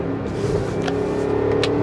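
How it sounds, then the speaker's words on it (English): A Cadillac Escalade-V downshifts, its engine holding a steady rumble under a thin, sustained supercharger whine, close and fairly loud with no speech. "A little bit of supercharger whine"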